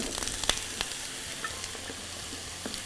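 Store-bought vegetables sizzling in a little oil in a pan, with a steady hiss and scattered sharp crackles and utensil taps close by.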